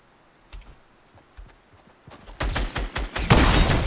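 Gunshots in Fortnite, with faint scattered clicks at first, then a loud rapid string of shots in the last second and a half.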